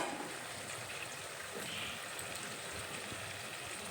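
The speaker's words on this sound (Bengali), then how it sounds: "এখন গ্যাসের ফ্লেম বাড়িয়ে দিয়ে ঝোলটা ভালোভাবে ফুটিয়ে নেব" Bata fish curry boiling hard over a raised gas flame, a steady rushing, bubbling hiss that stays even and close throughout.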